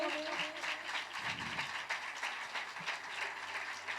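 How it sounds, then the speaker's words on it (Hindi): Audience applause at a gospel revival worship gathering in Karachi, a steady wash of many hands clapping that continues throughout, fairly loud and sustained, with no clear speech over it. "आप सबों की भरपूर तालियों में"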